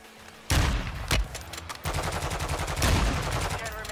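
Gunfire in the video game Warzone: loud bursts of automatic fire with sharp single shots, rattling in rapid repeating volleys, with a voice speaking briefly underneath.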